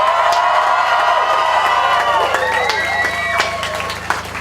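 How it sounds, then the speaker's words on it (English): A crowd at a marriage equality rally cheers and whoops loudly in a sustained burst of voices with some clapping, fading slightly toward the end. "Can we give them a big cheer?"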